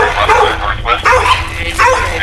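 Dogs barking and yipping outside a house at night, a few short excited barks with whimpering in between, mixed with talk and background noise.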